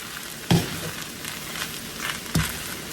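A rice dish mixture with scallions sizzles in a hot pan while being stirred, with a continuous frying hiss and two sharp scraping knocks of the utensil against the pan, close and alone.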